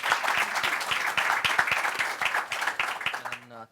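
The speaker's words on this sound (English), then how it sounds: "Let's give them a really warm round of applause" An audience gives an education panel a round of applause: distinct, fairly sparse hand claps rattle along steadily, then the clapping fades out as a short tone sounds at the end.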